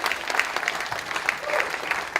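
An audience at an ImageNation 2014 event claps steadily, dense overlapping applause from a crowd filling the room at moderate loudness, without a break.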